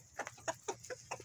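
Backyard chickens pecking at cheese, lettuce and bread treats on a warm day, giving soft, close clucks in a quick run of five or six short calls with quiet gaps between them.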